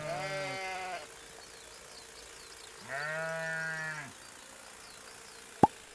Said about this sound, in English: The shearers are about to shout and the sheep about to bleat when Bob arrives.